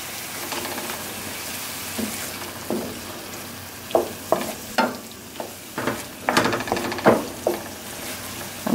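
Tomato paste sizzles in a pan while a utensil stirs it, producing a soft frying hiss broken by a run of sharp scraping clacks that crowd together toward the end.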